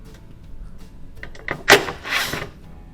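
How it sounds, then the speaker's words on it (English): An LG refrigerator door being removed: a short run of close mechanical clunks and scrapes builds to one sharp knock, then fades into a softer rattle. "So remove the drawers, and now we're going to remove the door."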